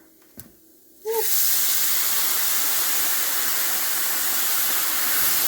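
Water poured into a hot pan of toasted rice bursts into a loud, steady sizzling hiss after a second of near quiet with a faint clink, then keeps roaring evenly and close up.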